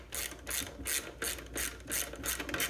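A ratchet loosens the rear brake bolts on a Honda Reflex scooter with a disc brake, giving rapid, close clicking in about five to six bursts of pawl ratcheting with no one talking.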